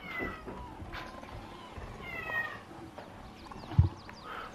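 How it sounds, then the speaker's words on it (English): A house cat meows in a home recording studio, a few short, wavering cries spread across the moment, close and moderately loud, with a soft thump near the end. "My cat just invaded my recording studio."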